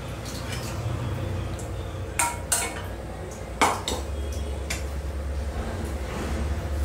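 A metal ladle clinks and scrapes against a cooking pot while jaggery syrup is poured into paruppu payasam and stirred, with a few sharp knocks and a low stove hum underneath.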